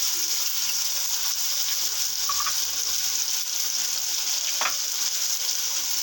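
Tomatoes, cabbage and capsicum frying in a pan for macaroni, a bright constant sizzle with a couple of brief metallic spoon clinks, close and steady.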